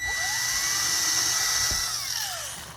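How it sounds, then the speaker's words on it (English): Power drill boring a hole into a cigar box guitar build, a steady high whine close by that holds then winds down, with no talk over it. "And then I drill down probably about maybe a little more than 1/4 of an inch."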